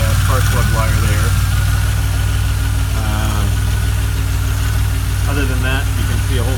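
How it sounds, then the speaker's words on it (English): A DeLorean engine idles loudly and roughly, with a strong continuous low rumble and uneven lumpiness that suggests a valve fault, while someone talks over it close by. "You can tell exactly what the engine's doing by the shake of the spark plug wire there."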